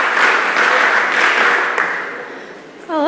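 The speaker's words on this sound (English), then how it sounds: "That's an interesting clap." A crowd applauds steadily for a few seconds, the clapping fading toward the end as a voice begins to speak.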